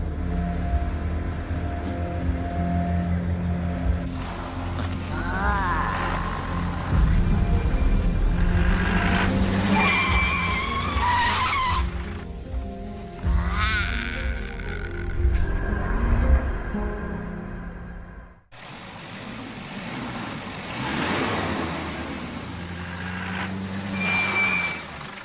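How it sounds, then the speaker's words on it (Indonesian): Heavy road traffic rolls past on a street, loud rumbling engines with hissing brakes and beeping, swelling and fading as vehicles go by, cut off abruptly before another loud passing surge. "Ada mobil, hati-hati."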